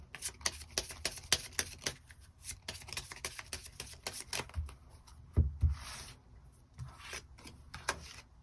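Tarot cards being shuffled and drawn on a table: soft, quick papery flicks and rubs, close and fairly quiet, in irregular clusters.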